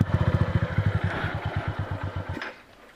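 Motorcycle engine idling with a steady rapid pulsing beat, close and fairly loud, that falters and dies out near the end, leaving near silence; ridden on a wet dirt trail.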